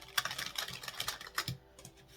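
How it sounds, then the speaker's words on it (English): A deck of tarot cards is shuffled with a quiet, rapid flurry of crisp clicks and flutters that ease off near the end. "that's the last shuffle"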